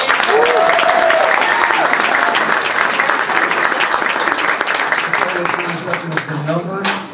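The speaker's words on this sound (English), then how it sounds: "Round of applause, please." A high school crowd gathered for a referendum completion celebration breaks into loud, sustained applause that fades slightly at the end, with a voice and some cheering over the clapping.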